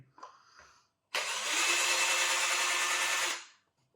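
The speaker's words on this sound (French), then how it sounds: "avec la visseuse, je fais gaffe de ne pas abîmer les têtes de vis" An electric screwdriver whirs in one continuous, loud burst of about two seconds while backing screws out of a new Traxxas RC car, preceded by a few faint handling clicks.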